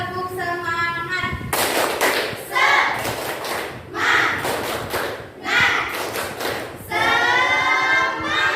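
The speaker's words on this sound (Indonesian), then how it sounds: "ayo teman-teman semua berdiri untuk tepuk semangat" A classroom of students performs a rhythmic spirit clap, with bursts of group clapping and sharp thuds alternating with loud chanted voices.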